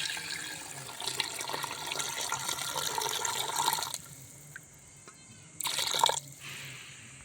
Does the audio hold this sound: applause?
no